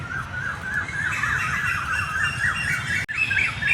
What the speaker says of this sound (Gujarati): કેટલો મસ્ત કોયલનો અવાજ આવે છે.